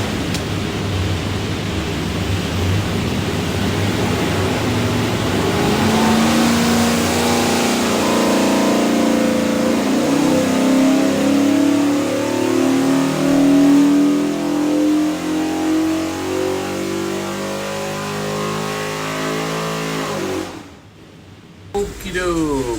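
A 347 Ford stroker V8 with a custom-grind hydraulic roller cam, built for a GT40 replica, revs on an engine dyno, its loud roar climbing steadily in pitch for a long pull before cutting off abruptly near the end.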